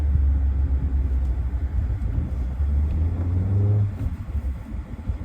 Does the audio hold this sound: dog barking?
no